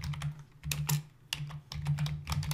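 Quick bursts of keystrokes on a computer keyboard as commands are typed to start SQLite, the clicks close and crisp in uneven clusters with short pauses, and no voices.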